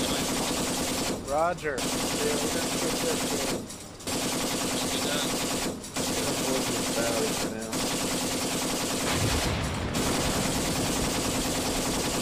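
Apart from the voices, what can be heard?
gunfire in a war video game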